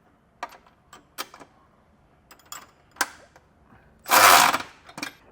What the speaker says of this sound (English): Now I'm going to start tightening with our hardware that's right up here on the top